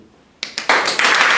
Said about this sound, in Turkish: Alkış yapın.